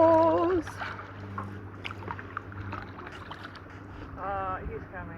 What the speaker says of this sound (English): This is just a single boat. I think he's gonna go around. He's a pretty big, yeah, he's like a 25-footer.